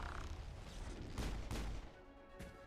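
Pistol gunfire in the Mass Effect video game, a few sharp loud shots spaced irregularly over a rumbling battle background, with no talking.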